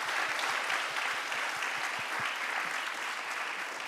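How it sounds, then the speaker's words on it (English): A conference audience claps for panelists, speaker and moderator at the close of a session on AI in ports, giving a dense, steady round of applause that lasts the whole stretch. "why don't we give a big round of applause to our panelists and speaker"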